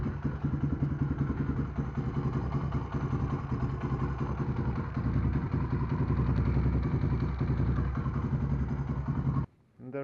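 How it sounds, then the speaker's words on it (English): A Suzuki DR350 motorcycle engine running steadily after an oil change, a close, loud single-cylinder idle with a rapid even thumping that cuts off abruptly just before the end. "Now it's just a matter of starting the bike and checking our work."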